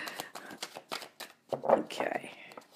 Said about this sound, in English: Wow, I'm a bit out of practice with shuffling.